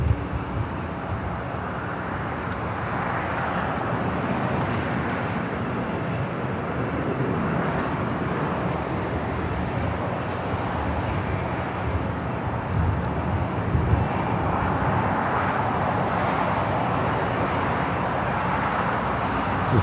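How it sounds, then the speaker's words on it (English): Japan Airlines airliner taxiing at LAX, a broad steady jet-engine roar with wind noise, continuous and moderately distant for about twenty seconds, no talk. "Japan Airlines should start its taxi here shortly."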